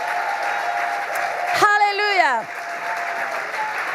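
A church congregation claps steadily throughout. A voice calls out once over the applause partway through.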